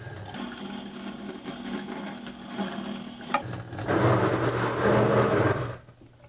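An upflush toilet pump runs in a basement, its steady mechanical hum and rushing water building louder toward the end before cutting off abruptly, with no talking.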